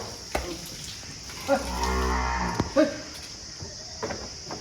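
An HF cross cow at a cattle sale gives one long, deep moo near the microphone, framed by faint clunks and scattered background noise.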